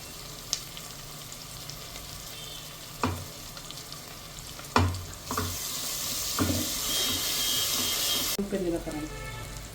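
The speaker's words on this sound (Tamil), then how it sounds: "ஜிஞ்சர் கார்லிக் பேஸ்ட் 1 டீஸ்பூன் போட்டுங்க." Ginger garlic paste fries with onions in a pan, a soft sizzle broken by a few sharp spoon knocks and stirs, the hiss swelling louder later before briefly cutting.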